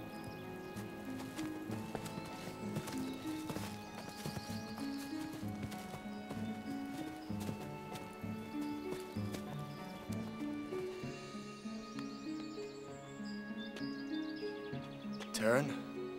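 Horses' hooves clip-clopping at a walk on a farm, a steady near rhythm of hoof knocks running throughout, with music and voices over it and a brief whinny near the end.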